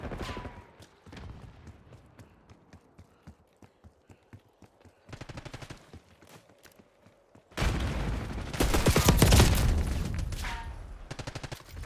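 Call of Duty Black Ops 6 gunfire comes in rapid, sharp bursts of repeated shots, quieter and sparser early on, then a louder, dense volley of continuous fire in the second half.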